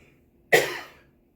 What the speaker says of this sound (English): I'm sorry for those who I'm coughing in your ear.